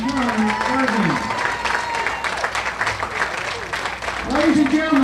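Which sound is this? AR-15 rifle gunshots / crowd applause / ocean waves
crowd applause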